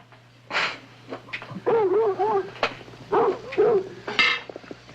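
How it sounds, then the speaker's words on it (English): Dogs bark and yelp in short bursts, close by, with whining between barks and some clattering in the background. "I know how the dogs sound."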